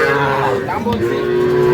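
A young bull calf lets out a drawn-out moo, close by, over faint background voices at a calf market.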